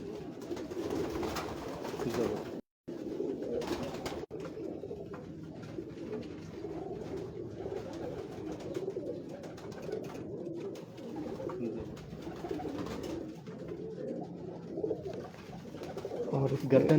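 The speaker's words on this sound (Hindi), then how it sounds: "ये दूसरा कबूतर है" Pigeons on a rooftop in Lahore coo softly and repeatedly, a low murmuring at moderate distance, with someone talking intermittently over the birds.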